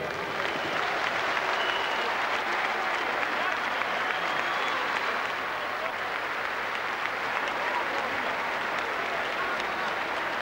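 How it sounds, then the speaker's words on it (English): A boxing arena crowd applauds the challenger Jose Badillo after a WBO featherweight title fight against Prince Naseem Hamed, producing a dense, steady roar of clapping that holds at an even, loud level throughout. "A round of applause for the game challenge of Jose Badillo"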